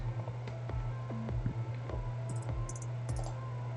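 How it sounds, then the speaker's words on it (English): Fingers tapping out a short phrase on a computer keyboard, a quick irregular run of light clicky keystrokes heard close up over a low steady hum, with no talking. "We're going to type in"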